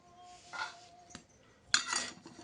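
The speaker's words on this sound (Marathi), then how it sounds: "त्यानंतर प्लेटमध्ये आपण भाजी घेऊ चमचा" A spoon serves homemade drumstick vegetable curry onto a plate beside hot chapati. Soft scraping and light clinks of metal on the dish come in two short bursts, close by and fairly quiet.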